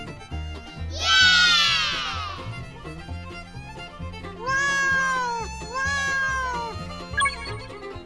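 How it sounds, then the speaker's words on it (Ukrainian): A cat meows several times, drawn-out and close, over a light repeating musical background. "кіт."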